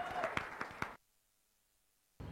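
Audience applause at a comedy roast show: a short burst of close, loud clapping, then it cuts to near silence before another burst begins.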